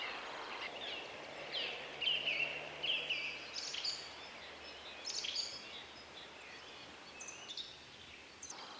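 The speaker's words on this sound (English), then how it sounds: "no doubt you can hear the birds singing around" Birds singing at dusk beside a winter carp fishing pool in Shropshire, faint distant chirps and short song phrases scattered over a quiet outdoor hiss, with no talking.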